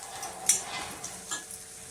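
Onions frying in a pan for liver pepper fry, a soft continuous sizzle near at hand with a couple of sharp clinks of a spoon against the pan, no voices.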